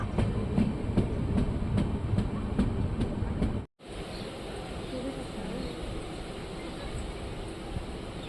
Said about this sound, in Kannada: ಚನ್ನಪಟ್ಟಣದಿಂದ ನಮ್ಮ ಟ್ರೈನ್ ಹೊರಟಿದೆ.